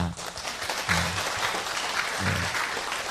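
A church congregation claps together during a Sunday worship service, with steady dense applause filling the room and brief, faint voices underneath.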